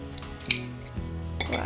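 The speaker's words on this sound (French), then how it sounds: "je vais ajouter un petit peu de sauce chili. J'ai une autre cuillère ici." A metal spoon clinks against a bowl or pot while chili sauce is stirred into homemade soup, several short bright taps over a low background hum.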